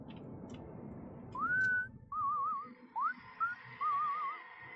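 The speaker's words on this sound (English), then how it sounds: "Which one of you is whistling right now?" Someone whistles a short wandering tune of rising and trilling notes that echo faintly, heard alone over a low background hum.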